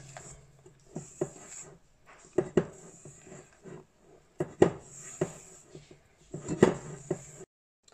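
A spatula scrapes and taps against a bowl while folding Italian meringue into macaron batter, with irregular soft knocks and swishes and a faint background hiss.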